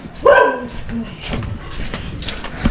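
A dog barks a few times nearby, sharp yelping barks early on, followed by softer whining and background noise.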